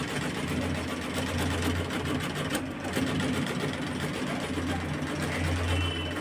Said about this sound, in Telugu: మిషన్ అల్లుతుంది చూడండి